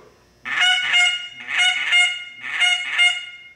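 Three pairs of loud, nasal honks from a hunter's goose call mimic two geese, each pair separated by a short pause, close and clear.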